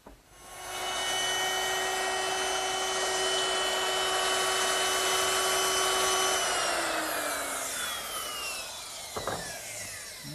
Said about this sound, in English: simply take my router and finish the dado